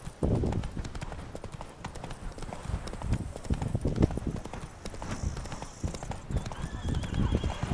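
Horse hooves gallop in The Witcher 3 Blood and Wine, a loud, close, rhythmic clip-clop running continuously with a brief whinny amid game ambience and no speech.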